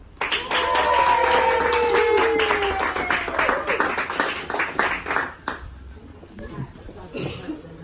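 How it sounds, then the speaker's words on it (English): Guests at a wedding ceremony break into a loud, dense round of clapping that peaks early, then thins out and fades to scattered claps and a few murmurs. "would like to come forward together with a big round of applause"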